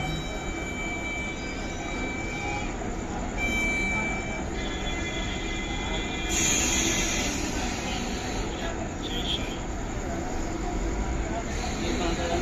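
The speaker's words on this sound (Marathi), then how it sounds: "उससे उसकी आवाज ही ट्रेन का ही आवाज" A Mumbai local train rumbles along steadily and loudly at night with a constant rattle of wheels on track, joined by a high metallic squeal partway through.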